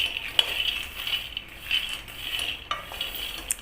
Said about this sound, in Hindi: लगातार चलाते हुए हम इसको भून लेंगे